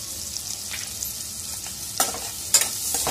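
Onions and tomatoes roasting and being stirred in oil with a pinch of salt for an egg curry: a steady close sizzle, with sharper scraping stirs breaking through near the end.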